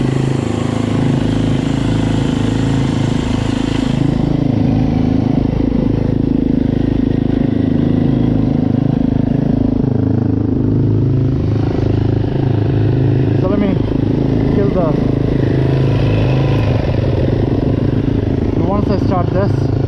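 A Yamaha YZ250FX or YZ250F dirt bike engine runs loudly nearby, idling with a steady rumble and a few blips of revving toward the end.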